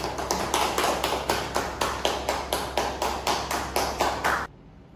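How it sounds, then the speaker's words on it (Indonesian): Rhythmic applause in a classroom, about a dozen evenly spaced, fairly loud claps in unison over steady room hum, stopping abruptly near the end. "Kasih aplaus dulu untuk Gabi."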